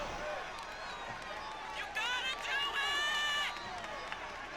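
A wrestling crowd at an OTR Championship Wrestling match cheers and shouts in a large hall, swelling into a louder burst midway before settling back, with a commentator's voice running over it.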